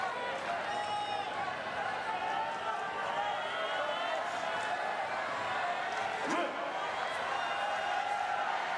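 Paralympic judo crowd in an arena during a final, a broad sustained roar and cheer rising and falling, heard under continuous commentary.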